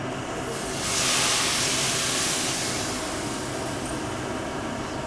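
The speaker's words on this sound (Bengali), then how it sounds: "জল দিয়ে দিচ্ছি।" Water poured into a hot pan of frying prawns and spices for ol chingri, a yam and prawn curry, bursts into a loud sizzling hiss that swells within a second and then settles into a steady, softer bubbling sizzle.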